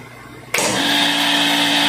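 Water pump motor on a float-less level control in auto mode kicks on abruptly after a quiet moment, then holds a loud, steady whirring drone.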